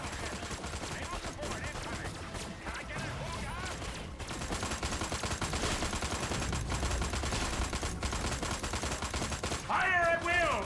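Rapid gunfire in the alien invasion game Destroy All Humans, a dense, continuous burst of shots under a steady roar, with brief laser-like chirps near the end and some speech mixed in.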